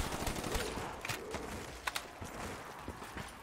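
Rapid bursts of gunfire crackle through a Call of Duty Black Ops 3 zombies custom mod on PC, fairly quiet and dense, with sharper shots popping out of a busy game mix.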